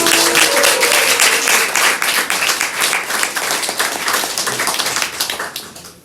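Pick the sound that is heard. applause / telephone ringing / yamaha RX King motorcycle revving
applause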